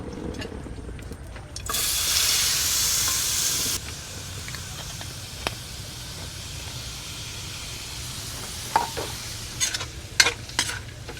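Ingredients sautéing in a pan for pancit Lucban, a continuous close sizzle that flares into a loud hiss for a couple of seconds, then settles, with scattered stirring clicks and scrapes toward the end.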